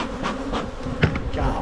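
Honeybees buzz in a thick, close drone during a spring hive inspection, the hum steady with a few brief thumps from handling the box.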